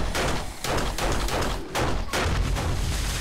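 Rapid gunfire in the survival game 7 Days to Die as shots are fired at gas cans, a dense burst of loud sharp reports with heavy booming thuds running together over several seconds.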